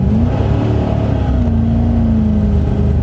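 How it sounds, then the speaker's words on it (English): A 1985 Chevy Corvette parts car, rescued from a Florida swamp, accelerates on wet roads. Its engine drones loud and close as the revs gently climb and then hold. "Let's just give her a little gas."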